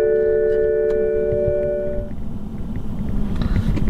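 A BMW is switched on with the key, and a steady tonal chime sounds over a loud low mechanical drone. The tones stop partway through while the rumbling hum continues on its own, with no one speaking.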